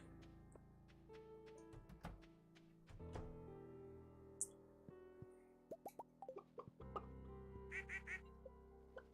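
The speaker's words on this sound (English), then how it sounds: "Quack, quack, quack." Ducks quacking in a series of short, fairly close calls over a steady low hum and other background noise, with a few sharper knocks or splashes among them.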